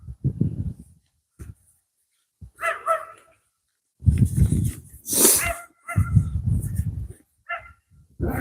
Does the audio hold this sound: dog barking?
yes